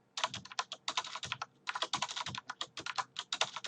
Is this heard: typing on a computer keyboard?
yes